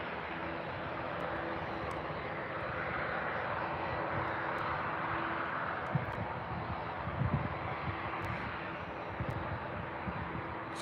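A Boeing 767 at Birmingham airport, its engines giving a steady, distant broadband roar that holds evenly throughout with slight wind buffeting on the microphone.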